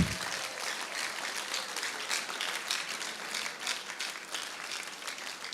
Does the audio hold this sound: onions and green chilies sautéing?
no